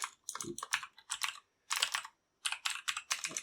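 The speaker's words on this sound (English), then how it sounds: "Because I can type." Close, brisk typing on a computer keyboard comes in quick clusters of key clicks, with brief pauses between bursts while someone enters a string in Java code.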